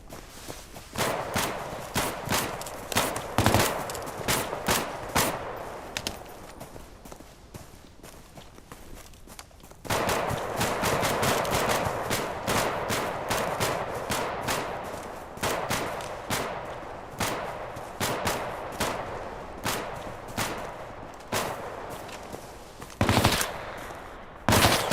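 Rapid bursts of gunfire during a tactical team training exercise, dense volleys of sharp shots in rhythmic clusters, loud and close, continuing for most of the stretch with a brief lull before resuming.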